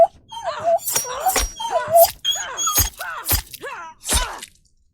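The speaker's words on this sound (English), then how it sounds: "Filthy dog!" A dog whimpers and yips in a series of high, wavering whines with sharp bursts between them, close and fairly loud, in the video game Remothered: Broken Porcelain, fading out at the end.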